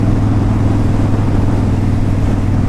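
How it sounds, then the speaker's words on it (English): A 2002 Harley-Davidson Low Rider motorcycle engine runs steadily and loudly up close, a constant deep rumble with no breaks and no talk over it. "It's got that good Harley sound."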